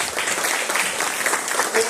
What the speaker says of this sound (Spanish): ¿Cuánto le puede dar un aplauso?